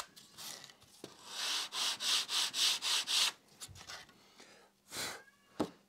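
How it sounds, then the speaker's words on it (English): Fine sandpaper rubs back and forth over the tail surface of a scratch-built RC plane, a run of about eight even strokes, close and crisp, with a few lighter scuffs before and after. "Fine sandpaper."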